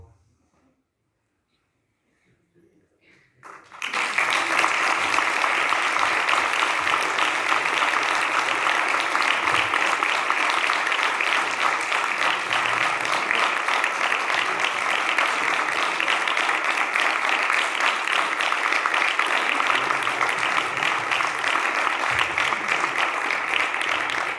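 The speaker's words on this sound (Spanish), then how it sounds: "Gracias por este aplauso" An audience applauding the author at a book presentation in Avilés, dense sustained clapping that starts abruptly after a few seconds of near silence and stays loud and even throughout.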